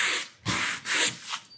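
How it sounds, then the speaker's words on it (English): A wooden board is sanded by hand in four or five strokes, the rough scraping rising and falling at an even back-and-forth pace, close and distinct. "if I need to get more even sanding, I can turn it over"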